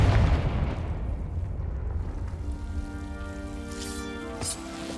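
A Confringo fire spell bursts in Hogwarts Legacy as a loud, rough blast up front, then settles into a crackling, rumbling tail with a faint sustained hum and a couple of sharp late flares.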